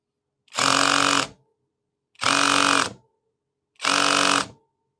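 A HyperTough 12-volt brushless drill set to maximum torque, running in three separate bursts of loud, even motor whine, each under a second long, with silence between them.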